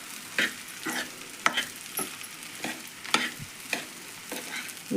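Peanut powder stirred in hot oil during tempering for sabudana khichdi: a steady low sizzle under regular scraping strokes, about two per second, close and clear with no talking.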